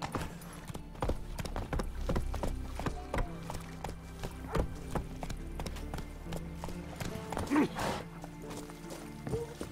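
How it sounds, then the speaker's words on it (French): A horse clip-clops at a gallop in The Witcher 3: Wild Hunt, hoofbeats steady and close throughout, with a brief neigh and a little background game sound. "Au galop, Ablette."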